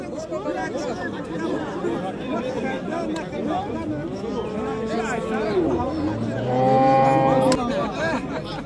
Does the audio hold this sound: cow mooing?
yes